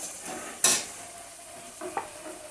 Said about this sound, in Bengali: এখন আমি একে একে সব মশলাগুলি দিয়ে দিচ্ছি।